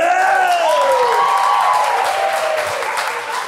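Audience applause and cheering at a live improv comedy show, loud steady clapping with whoops, while a performer's voice carries over the top and the sound tapers off at the end.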